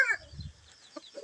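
A few brief Bisaya native chicken clucks and chirps, faint and sparse, with a soft low rustle in between.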